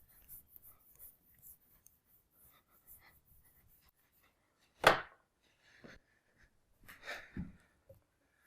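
Marker or chalk scratches on a board during a mathematics lecture: faint, intermittent writing strokes in a quiet room, broken by one sharper knock against the surface and a few louder strokes.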